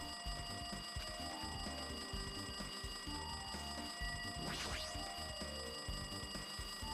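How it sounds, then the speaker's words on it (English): A telephone rings in the video game Danganronpa 2: Goodbye Despair, a steady bright ringing held for the whole stretch over a dense, busy game soundtrack. "It's so noisy, it looks like that phone is ringing."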